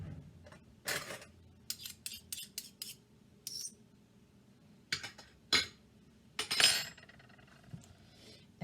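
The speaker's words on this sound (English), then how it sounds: "Now, I'm going to put a good heaping tablespoon of chili sauce." A heaping tablespoon of chili sauce is spooned out, with a series of sharp metal-on-glass clinks and taps spaced irregularly, close and crisp against near silence.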